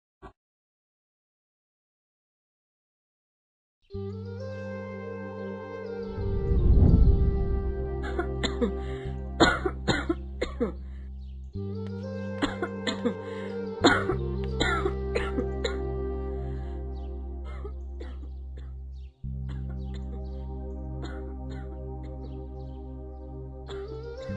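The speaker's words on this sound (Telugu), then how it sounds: "ఎవరు ఎవరో చాలాసేపు నుండి దగ్గుతున్నారే" Harsh, repeated coughing and throat clearing, close and loud, over a steady tonal music background.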